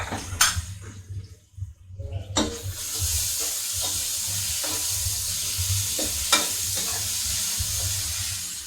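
Finely chopped onions dropped into hot oil with cumin seeds for pav bhaji, a loud steady sizzle after a few stirring clatters, spoon scrapes breaking through the frying.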